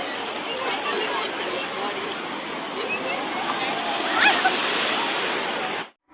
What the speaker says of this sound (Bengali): দীঘার থেকে পুরীর ঢেউ প্রচণ্ড মারাত্মক